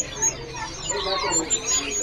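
Small birds chirp in quick, high tweets against a steady background hiss, close and fairly faint.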